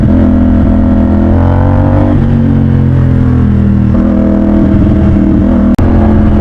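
A motorcycle cruising on the road on a long ride, its engine droning loud and close with steady pitch shifts as it changes speed, and a brief sharp click near the end.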